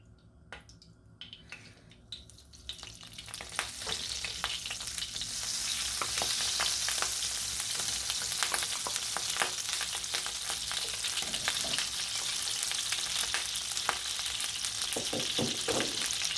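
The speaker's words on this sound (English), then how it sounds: "I'm just going to sear the chicken breast in a pan" Chicken breast sears in a pan of oil and melted butter, starting with quiet clinks and taps before a steady, fairly loud sizzle and crackle sets in and holds, with scattered pops and stirring sounds, and no voices.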